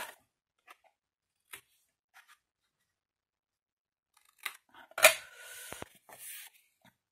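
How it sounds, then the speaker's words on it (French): Scissors trim the tips of two paper glue tabs while a mini album is being assembled, giving a few faint snips early on and then a louder, closer cluster of cutting and handling noises near the end, in an otherwise quiet room. "vous épointez légèrement vos deux onglets de collage"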